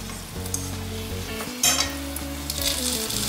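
Sweet potato pies frying in oil in a flat pan under a lid over low heat, a continuous muted sizzle with a brief clatter midway, under a steady background hum.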